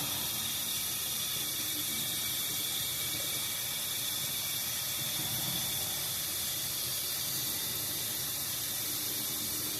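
Water poured off soaked beans in a pot, a steady, dense rushing and splashing that runs evenly throughout without pause, close and fairly loud, with no talking.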